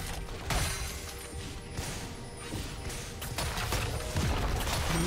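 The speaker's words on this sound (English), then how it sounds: "Red team's turret has been destroyed." In League of Legends, a turret is destroyed amid a string of sharp crashing impacts and bursts of combat effects. The hits are loud and fairly close, with a dense mix of game sounds between them.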